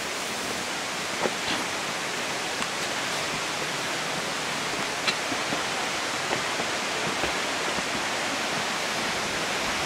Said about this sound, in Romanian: Cascada